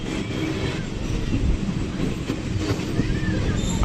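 A Sealdah–Diamond Harbour local train rumbling at Diamond Harbour station, a steady, fairly close roar of wheels and carriages with faint high metallic squeals, murmuring voices in the background.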